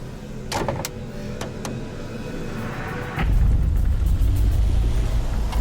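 A car engine straining in the Australian outback while overheating, with a few sharp clicks and rattles over a low rumble that suddenly grows louder and heavier partway through, then holds as a strong, close drone.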